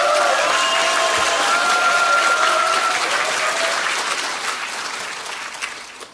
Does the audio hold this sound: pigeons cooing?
no